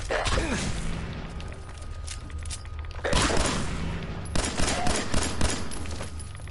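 Rapid bursts of video game gunfire from Fallout 4 aimed at a ghoul, loud repeated volleys with sharp cracks, heaviest in the latter half, with a few speech-like sounds mixed in.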